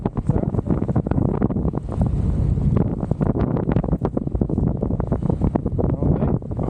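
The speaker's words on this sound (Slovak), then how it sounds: "sa ten vietor riadne odráža" Strong wind rushes off a hill past a paraglider soaring the ridge, a loud, constant, gusty roar buffeting the microphone, with sharp crackling bursts.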